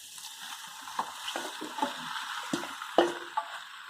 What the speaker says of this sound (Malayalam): ഇനി നമുക്ക് പുരട്ടി വെച്ച ചിക്കൻ അതിലേക്ക് ചേർക്കാം